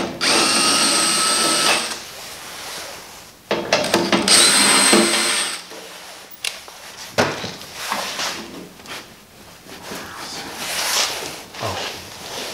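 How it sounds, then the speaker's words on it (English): Power drill with a 5/16 nut driver bit removing screws from a Mr. Heater during a gas-to-propane conversion, in several loud whirring bursts separated by pauses, with clicks and clatter of parts being handled in between. "I'm just going to be using drill."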